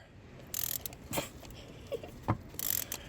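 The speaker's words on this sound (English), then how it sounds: "Your ratchet isn't down in the extension." A ratchet on an extension works spark plugs out of a 2020 Hyundai Palisade Limited, giving short, irregular bursts of close metallic clicking separated by brief pauses.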